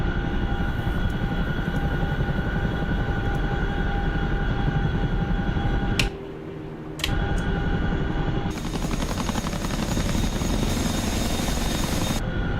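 A helicopter's engine and rotor drone on steadily and loudly in a flight video game, a constant whine and thrum that dips briefly in the middle before picking up again.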